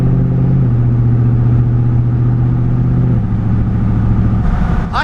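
A cammed truck engine with cylinder deactivation deleted runs while driving at light throttle, a loud close steady drone whose pitch steps down through gear changes, with no talking.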